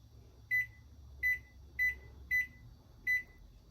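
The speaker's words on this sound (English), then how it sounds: "finna go ahead and preheat my oven" An oven being set to preheat gives five short, evenly spaced electronic beeps over a faint low hum, with no voices.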